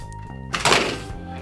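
A LEGO 75178 Jakku Quadjumper model snaps apart into large pieces, a single dull thunk with a brief clatter of plastic, close and fairly loud over a faint tonal background.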